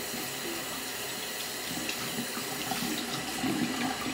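A tap runs steadily into a sink while a small stuffed animal is washed, a close, continuous splashing gush of water that grows slightly louder near the end, with no voices.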